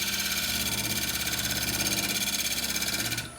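A wood lathe spins steadily during woodturning, giving an even, close mechanical hum with a fine rapid pulsing that fades at the end.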